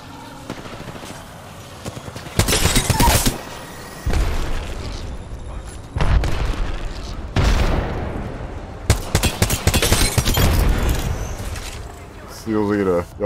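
Bursts of automatic gunfire and booming shots in Apex Legends, loud and repeated in several clusters across the firefight, with rapid single shots near the end.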